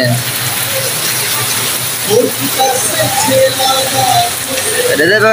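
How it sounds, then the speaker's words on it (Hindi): Steady heavy rain hisses and patters throughout in Dera Ghazi Khan, Pakistan, while a person talks underneath it. "जोरदार बारिश है"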